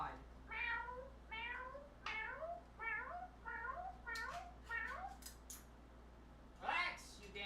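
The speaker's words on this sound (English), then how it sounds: "Hold on, I gotta get my cat" A pet cat meows over and over, about ten short meows in a fairly even rhythm, close and clear against a low steady hum, ending with a louder, higher cry.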